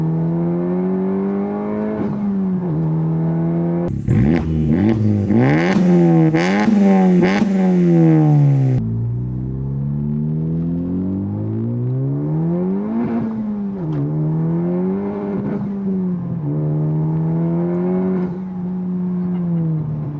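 A Honda Civic Type R turbo engine and exhaust rev and accelerate, a loud close droning tone climbing and dropping through repeated gear pulls, with a harsh rasping burst partway through.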